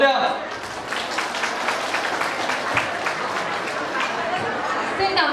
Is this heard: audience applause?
yes